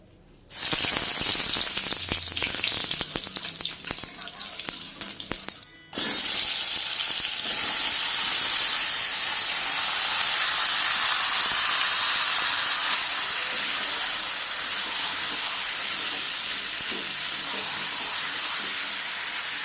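Oil hits a hot frying pan with a loud, close sizzle that breaks off briefly, then returns as a strong steady hiss. No talk over it.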